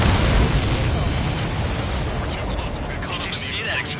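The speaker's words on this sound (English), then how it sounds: "Did you see that explosion?" In the combat flight game Ace Combat 7, an explosion booms, a heavy rumbling blast that decays into a dense roar, with a voice talking over it.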